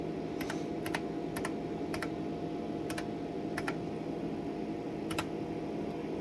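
Keys clack on an IBM 5120 computer keyboard in a login entry, with scattered single and paired keystrokes over a steady background hum.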